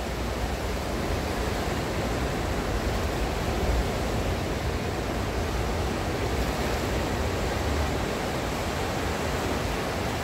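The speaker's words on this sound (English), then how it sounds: "You can hear the river," A river in Yorkshire rushes steadily, a loud broad unbroken wash of flowing water with no pauses or voices.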